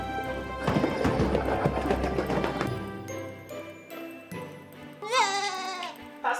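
A goat gives a wavering bleat near the end, after a stretch of busy, clattering background noise.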